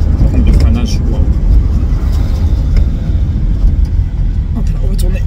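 Peugeot 104 car engine while driving, pushed in third gear, a loud steady low rumble heard from inside the cabin throughout.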